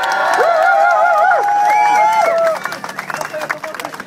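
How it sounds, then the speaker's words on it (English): A crowd at a pro-democracy rally cheers and claps, with loud whoops and whistles up close that drop into scattered clapping after a couple of seconds. "Give yourselves a big round of applause, everyone."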